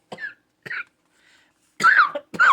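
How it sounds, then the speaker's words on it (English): A person coughs several times indoors at close range in short, harsh bursts, two at the start and then a heavier cluster near the end, separated by silence. "I'm going to cough, guys."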